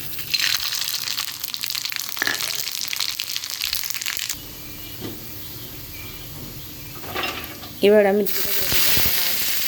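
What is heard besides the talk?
dried red chillies and black mustard seeds sizzling in hot mustard oil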